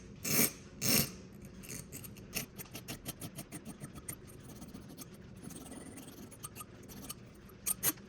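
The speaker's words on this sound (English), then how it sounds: "And then we'll just clean it up real quick with a regular flat file." A regular flat file rasps across the broken end of a clock mainspring in quick, rhythmic strokes, quiet and close, opened by a couple of louder scraping passes.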